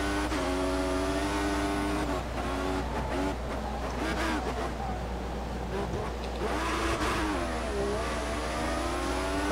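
Simulated Formula 1 car accelerating around the Bahrain circuit in F1 2014, a steady high engine whine rising and falling in pitch throughout, with a person talking over it.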